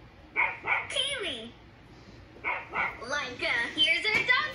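Sled dogs bark and yip in a dog sledding video game, several short bursts of barking and whimpering sounding close and clear, with pauses between groups of barks.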